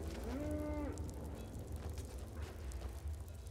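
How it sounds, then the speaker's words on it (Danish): A cow in the Skyrim video game lets out a single clear, drawn-out moo near the start, followed by quieter ambient game sounds and low background rumble. "De er også køer og geder herinde."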